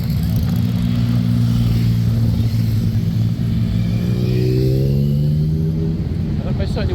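Motorcycles from a group of bikers rev and roar past on a London street at Horse Guards, a loud sustained engine drone with rising and falling pitch as they pass.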